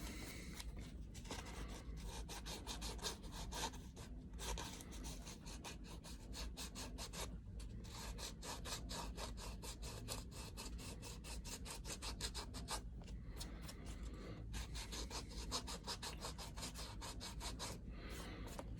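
Sandpaper rubs steadily along the edge of a tooled leather rifle sling, a continuous close rasping scrape with short pauses between passes and no talking.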